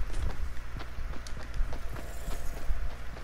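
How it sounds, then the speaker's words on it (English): Another player's footsteps run across a hard surface in a video game, a quick irregular patter of soft thuds close by, steady for a few seconds. "And those footsteps don't sound like he's walking inside."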